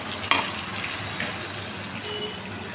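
Potatoes sizzle steadily in a pan while a mixed spice paste is stirred in and fried, a continuous close hiss and crackle with a brief sharper pop near the start.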